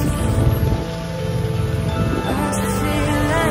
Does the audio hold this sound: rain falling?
yes